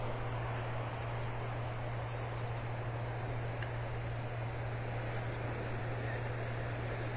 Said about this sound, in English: You can hear the waves breaking on the